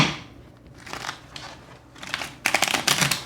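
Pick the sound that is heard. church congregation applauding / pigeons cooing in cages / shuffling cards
shuffling cards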